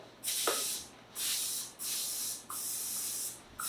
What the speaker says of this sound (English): I'm going to spray my tin. I use coconut oil.